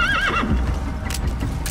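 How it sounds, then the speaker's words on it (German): A horse in the video game Metal Gear Solid V gives a short, clear whinny, followed by faint hoof clip-clops and ambient game noise. "Pferd, komm her."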